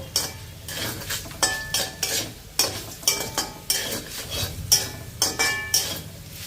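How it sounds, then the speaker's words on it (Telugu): A spoon stirs tempering spices in a hot pan in a rhythmic run of close, loud scraping and clinking strokes, with a faint sizzle of frying oil underneath. "ఇదంతా కూడా ఒకసారి కలిపేసేసుకుందాము"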